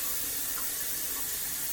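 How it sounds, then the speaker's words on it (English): Tap water runs steadily into a pot holding ham hocks for collard greens, a constant close hiss and splash with no voices. "Let me add some water in here"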